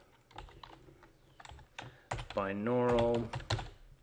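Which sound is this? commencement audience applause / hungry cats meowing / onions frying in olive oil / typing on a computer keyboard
typing on a computer keyboard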